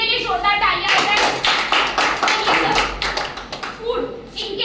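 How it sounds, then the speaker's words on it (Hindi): A hotel audience at a product presentation bursts into loud, close clapping, sharp individual hand claps layered into a lively burst of applause, with a voice speaking briefly at the start and end. "इनके लिए जोरदार तालियां हो जाए।"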